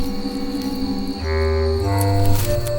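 A cricket chirps in a dim bamboo forest floor, a loud, steady shrill trill held close over layered sustained background tones, with no voices.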